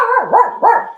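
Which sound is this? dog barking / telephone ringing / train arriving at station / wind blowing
dog barking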